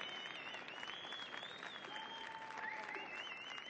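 Audience applause at the Crufts 2009 dog show during the Pastoral Group judging, with an Old English Sheepdog in the ring: a steady, faint, distant crowd clap with a few whistles over it.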